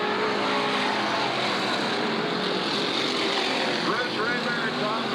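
Stock cars race at Southern Oregon Speedway, with a steady, dense engine drone of several cars circling the track and brief pitch sweeps as one passes.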